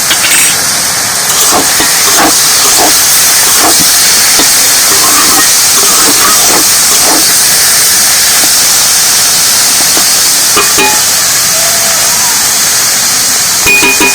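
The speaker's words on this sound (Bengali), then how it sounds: "একটু শুকনো শুকনো করে ভেজে নেবো কড়ার মধ্যে" Bathua greens dry-frying in a kadai, a loud continuous sizzling hiss with faint scraping clicks of stirring, steady from start to finish.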